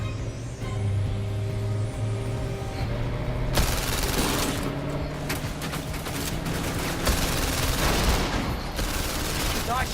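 Rapid bursts of gunfire aimed at the tires of oncoming SUVs in the VR game London Heist, dense and loud with overlapping shots and a low vehicle engine rumble underneath.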